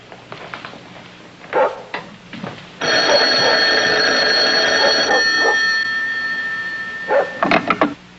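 A dog barks in short clustered bursts at the start and end, with a telephone ringing steadily for a couple of seconds in between, in an old sitcom scene.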